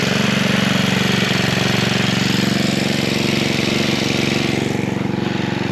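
A small trash pump engine runs steadily close by while jetting in a well, a loud continuous chugging drone with a fast regular pulse throughout and no pauses.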